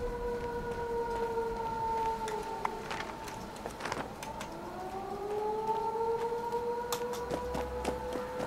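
In Fallout 76, a civil defense siren drones loudly and continuously, its pitch dipping and climbing again over a low ambient rumble, with no one talking.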